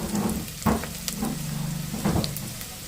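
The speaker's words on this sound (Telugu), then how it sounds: "ఉల్లిపాయలు అయితే వేగినాయి. మనం అల్లం వెల్లుల్లి పేస్ట్ వేసుకుందాం." Onions fry in a pan with a steady close sizzle as ginger garlic paste goes in, broken by a few stirring scrapes. There is no talk.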